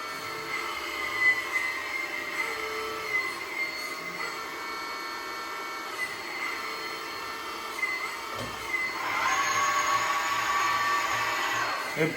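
A 1/12 scale C395 hydraulic excavator model runs its hydraulic pumps at about 4 MPa, giving a steady mechanical whine and hum. The sound grows louder and brighter near the end, with no talking.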